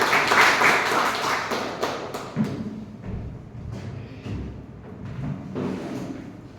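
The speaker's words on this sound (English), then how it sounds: "Please give a round of applause." Audience applause at a Toastmasters club meeting, a burst of scattered clapping that peaks early and then thins into lighter, uneven claps and thumps over several seconds.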